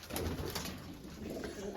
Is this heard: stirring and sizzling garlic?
no